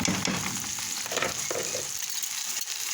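Rice and lentils sizzling as they are stir-fried in a pot for Egyptian koshari, a steady crackling hiss with occasional scraping stirs, close and fairly loud throughout.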